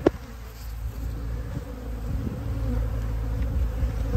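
Honey bees buzz around brood frames while a beekeeper makes splits, a dense, steady hum close by that grows slightly louder, opening with a brief knock.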